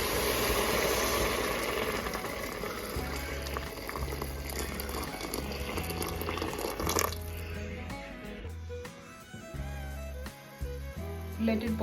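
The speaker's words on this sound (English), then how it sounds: "Now we are adding 4 cups of boiling water." Boiling water pours into a pot of vegetable soup, a broad splashing, bubbling rush that runs steadily near and close for the whole stretch, with a rhythmic low thumping underneath and no talk.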